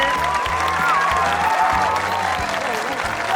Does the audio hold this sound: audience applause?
yes